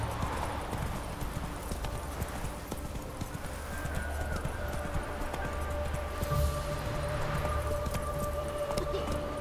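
Roach, a horse in The Witcher 3: Wild Hunt, gallops with steady rapid clip-clop hoofbeats that run throughout at close range, with an occasional whinny and a faint jangle over a low background.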